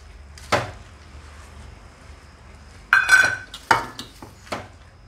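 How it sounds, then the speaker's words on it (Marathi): Rice flour is mixed into grated bottle gourd in a bowl, with a few sharp clinks and taps of a utensil against the bowl separated by quiet pauses, close and fairly loud. "आता यामध्ये आपण घेतलेले हे तांदळाचं पीठ थोडं थोडं करून मिक्स करूया"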